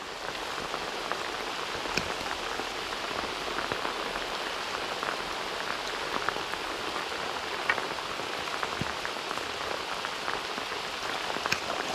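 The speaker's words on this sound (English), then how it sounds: "It's never rained so much all day, has it?" Heavy summer downpour beside the River Trent, a dense steady hiss of rain hitting surfaces with scattered sharper drops, constant and close throughout with no talk.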